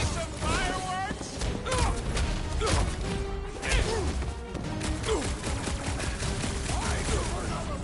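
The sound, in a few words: explosions in Guardians of the Galaxy video game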